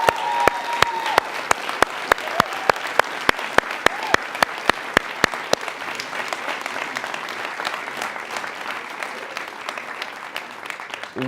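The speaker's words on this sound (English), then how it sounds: "So I would just like to give them a round of applause." Audience applause at an arts summit, warm sustained clapping from a crowd lasting over ten seconds, with a few sharp nearby claps standing out in a steady rhythm over the first half before blending into the wash.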